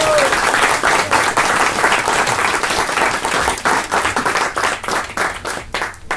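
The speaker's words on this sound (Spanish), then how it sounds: "Un aplauso, por favor." Audience applause at a book presentation, loud, close clapping from a room of people that stays dense and lively before thinning toward the end, with a brief voice at the start.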